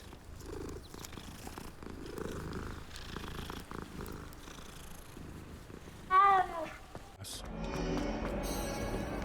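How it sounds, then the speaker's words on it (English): A cat purrs steadily while being petted in the video game Hogwarts Legacy. The purr is clear and moderately loud and lasts a few seconds. Game sounds and background noise come before and after it. "Oh, let me pet the kitty."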